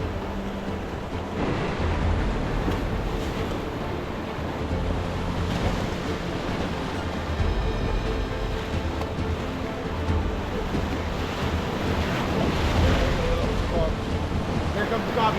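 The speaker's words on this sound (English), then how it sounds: "The whitewater is exciting, the river's exciting" Broad, continuous roar of whitewater rapids on a wild river, loud and steady with wind buffeting the microphone and no pause in the rushing water.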